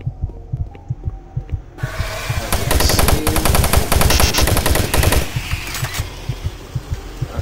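Rapid automatic gunfire from the Doom 3 video game bursts in after a run of dull rhythmic thuds, a dense, loud volley lasting a few seconds before fading back to thumping pulses.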